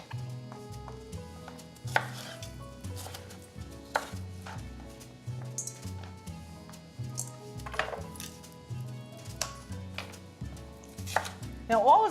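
Knife chopping and trimming fresh farmers market produce on a cutting board, with repeated sharp cuts at irregular intervals alongside soft handling noises; no talking.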